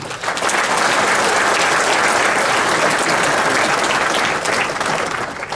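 A large audience at a Polish political campaign meeting in Bielsko-Biała claps steadily in dense, loud applause that runs unbroken for several seconds, with no voices over it.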